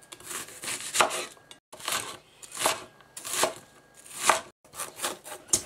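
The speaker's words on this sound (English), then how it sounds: "I'm just going to finely chop up some red onion" Red onion being finely chopped with a knife on a board, in rhythmic bursts of quick close taps separated by short pauses.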